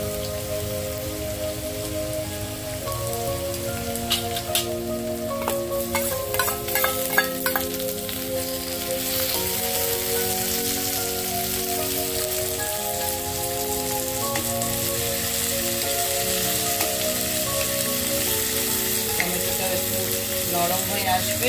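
Onion browned to reddish in a pan, with tomato then added for a chicken curry, fries in a steady, continuous sizzle that runs through the whole stretch with music playing underneath.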